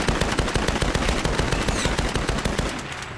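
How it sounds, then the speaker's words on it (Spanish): Rapid automatic gunfire in the Tomb Raider game, a fast, steady stream of sharp shots for about three seconds, loud and close, easing off slightly at the end, with no voices. "Me estaban disparando por detrás."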